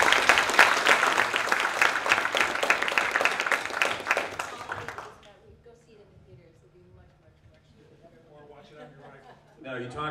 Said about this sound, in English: another round of applause, Jeff.